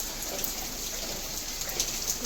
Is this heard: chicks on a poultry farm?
no